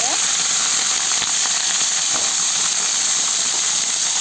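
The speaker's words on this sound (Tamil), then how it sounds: "இப்போ வந்து கட் பண்ணி வச்சுருக்கக்கூடிய கத்திரிக்காயை இதை நான் சேர்த்துக்கிறேன்." Cut eggplant drops into hot oil in a pan for a village-style curry, setting off a loud, steady hiss of sizzling that holds evenly throughout, close up and unbroken by talk.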